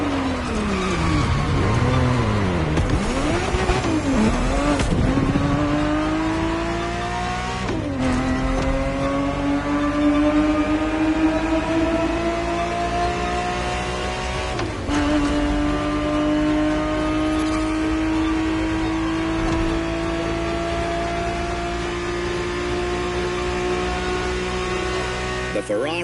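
A Ferrari 365 GTB4 from the 1970s roars through repeated upshifts in The Crew Motorfest racing game, the engine climbing steadily in pitch, dropping at each gear change, then building again, loud and continuous for the whole stretch.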